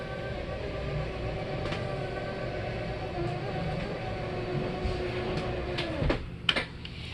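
Wall slide-out of a 2021 Precept 34G RV extending, a steady mechanical motor drone and whine running throughout, ending in a few clunks as the slide stops.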